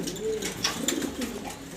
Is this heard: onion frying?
no